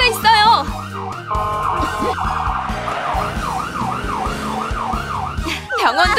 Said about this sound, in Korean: 사이렌을 울려야겠어.